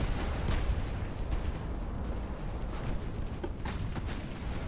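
Torpedoes striking a 108,000-ton battleship in the naval game Ultimate Admiral: Dreadnoughts: low, rumbling booms and muffled blasts rolling continuously, with a few sharper impacts rising above the heavy background roar.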